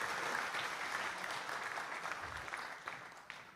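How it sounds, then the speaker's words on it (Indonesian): An audience applauds in a hall after a talk at the Indonesian army staff college. The clapping is steady, faint and distant and tapers off slightly toward the end. "Tepuk tangan untuk Rudy."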